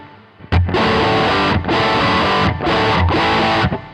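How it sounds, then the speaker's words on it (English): Electric guitar played through a Quad Cortex effects unit, loud distorted chords with reverb trails, struck in repeated bursts roughly every second, each ringing on and fading slightly before the next, with no voices. "you can hear there's reverb on there"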